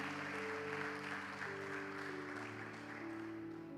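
A church congregation applauds in worship, a soft, diffuse patter of clapping beneath sustained keyboard chords, quiet and distant throughout.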